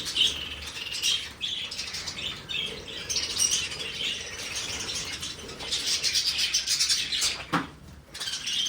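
A budgerigar chirps and twitters up close, with bursts of fluttering, flapping wings.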